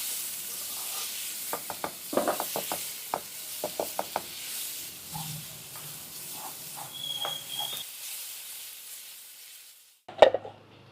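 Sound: onions and onion greens sautéing while being stirred in a pan

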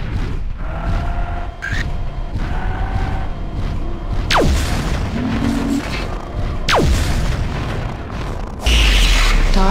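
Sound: explosion of destroyed target, MechWarrior 4 Mercenaries video game

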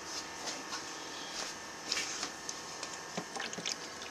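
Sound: water being poured into incubator

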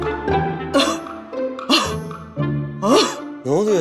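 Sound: cough

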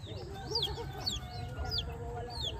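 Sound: baby chicken chirping

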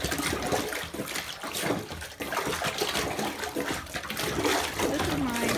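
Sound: dumping and wringing out laundry rinse water

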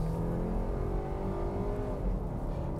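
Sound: VW Atlas Cross Sport 2.0 turbo accelerating onto freeway

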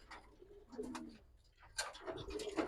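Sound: Giribaz silver-coloured pigeons cooing

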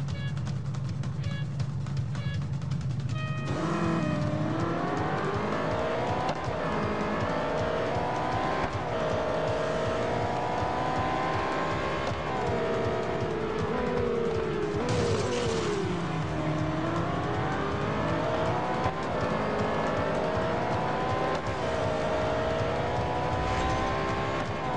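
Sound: car racing sounds from the video game Real Racing 3

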